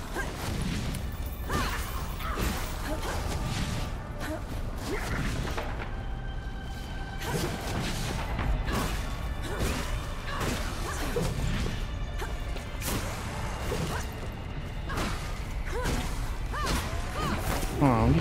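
Objects smash and break during combat in the video game Flintlock: The Siege of Dawn, repeated crashing and whacking hits with swooshes over a busy game soundscape, with someone talking throughout.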